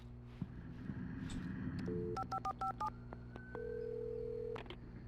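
A quick run of electronic touch-tone beeps as a phone number is dialed in the video game Alan Wake, followed by a steady tone, over low background hum.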